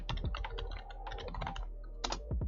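A password is typed on a computer keyboard: a quick, irregular run of crisp key clicks, close and clear, with a brief pause before a final flurry of keystrokes and no talking.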